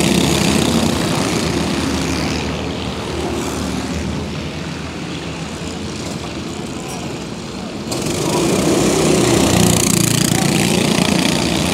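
Racing kart engines buzz steadily at an endurance race pit stop during a six-hour event at Warden Law, a continuous close motor drone that swells louder near the end as a kart pulls away.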